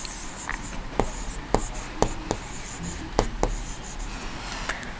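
A pencil sketches a rough quadrilateral on paper, heard as close scratchy strokes with several sharp taps as lines start and stop, over low room noise.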